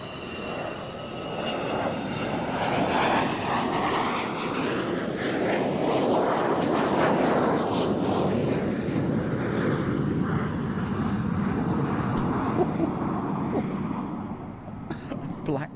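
A Nimrod MR1 maritime patrol jet roars steadily past at close range, its engines loud and sustained with a rising and falling whine, while a voice talks beneath the noise.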